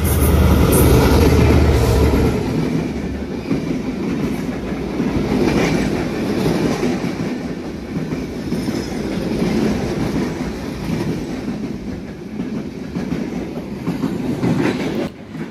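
Dhumketu Express, an intercity train running from Rajshahi to Dhaka, rumbles loudly along the rails with a steady clatter of wheels and car noise, heard close up from on board throughout.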